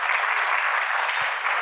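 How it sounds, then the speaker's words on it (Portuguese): A brief, smooth burst of audience applause at a round-table event on women in geosciences, an even hiss of many hands clapping at moderate volume. "Uma salva de palmas, por gentileza."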